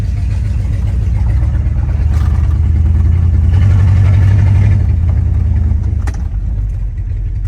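An old V8 car engine rumbling loudly up close as it drives, swelling briefly then easing off as it slows under braking, with a low steady drone throughout.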